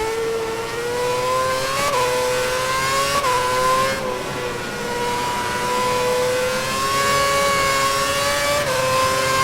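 A Formula 1 race car in the 2011 video game pulls out of the pit stop at Catalunya. Its engine gives a loud, steady high whine whose pitch rises and shifts with brief dips at each gear change, alone throughout.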